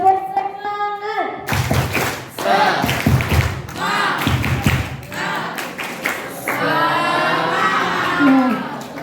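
Students at a school farewell event clap through a rhythmic 'tepuk semangat' routine, sharp group claps and thumps landing in quick patterned bursts mixed with loud chanting voices, then giving way to shouting.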